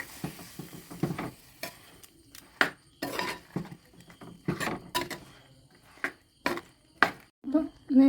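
Brinjal curry with freshly ground coconut stirred in a pot: a string of sharp clinks and scrapes of a spoon against metal, irregular and close, with short quiet gaps between strokes.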